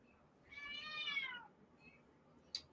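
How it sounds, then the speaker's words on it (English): A single cat meows once, a clear drawn-out mewing call of about a second at moderate distance in a quiet room, followed by a short sharp click. "You hear the cat meow, meow."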